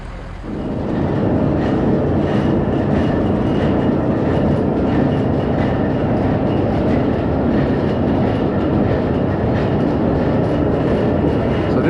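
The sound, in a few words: antique line shaft machinery driven by electric motor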